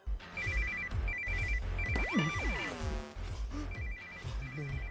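A telephone rings in short repeated electronic bursts while music with a swooping tone plays underneath.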